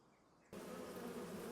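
Bees in Farming Simulator at Riverbend Springs, a dense, steady buzzing swarm that begins abruptly and stays loud and close, with no talk over it.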